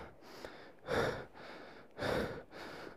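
Heavy, labored breathing of someone out of breath at about 17,000 feet on the Singe La pass in Ladakh's Zanskar valley, with two loud gasping breaths and softer exhales between them, close to the microphone.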